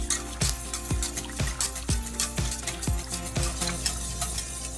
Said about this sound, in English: you slowly start pouring in your milk